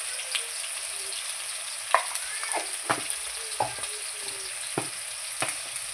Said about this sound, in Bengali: এবার কেটে ধুয়ে রাখা আলুগুলো ছেড়ে দিচ্ছি।